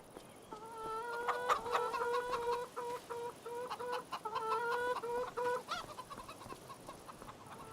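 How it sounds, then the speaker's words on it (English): Chickens clucking in the farming game Farming Simulator 25, a close, busy run of repeated clucks and short calls from several birds over a steady background hiss, with no talk. "Check on the chickens."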